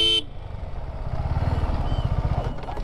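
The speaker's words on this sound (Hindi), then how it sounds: "इसको थोड़ा सा मैं हॉर्न बजा के दिखाऊं" A short car horn blast at the start, then the car's running engine rumbling steadily nearby.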